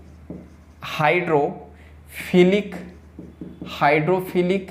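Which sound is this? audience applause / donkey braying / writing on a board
writing on a board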